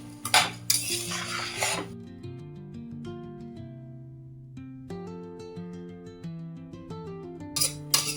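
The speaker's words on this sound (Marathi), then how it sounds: "आता हे तांदूळ आहेत ना छान असे परतून घ्यायचे" Rice is sautéed and stirred in a pan, producing bursts of spoon clinks and scraping at the start and end over steady background music.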